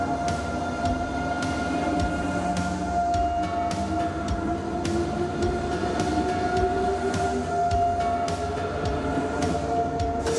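An intercity passenger train rumbles steadily along the rail with continuous wheel and carriage noise, a sustained tonal hum, and faint rhythmic clicks, loud and close throughout with no voices.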